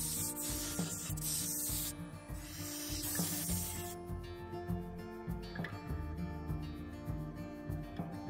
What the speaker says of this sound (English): I sanded with 80 grit